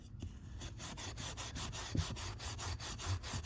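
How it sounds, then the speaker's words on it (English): Steel wool scrubbing a rusty old 1920s harmonica, a fast rhythmic back-and-forth rasping of about a dozen strokes, close and fairly quiet, with no talking. "Take this steel wool to it, pull off some of the stuff."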